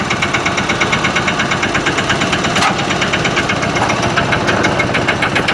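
A Sanedo mini tractor engine runs steadily close by, a loud, even knocking chug with rapid regular pulses and one brief clank midway, no voices.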